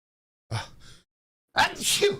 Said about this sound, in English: Oh, birthday sneezes.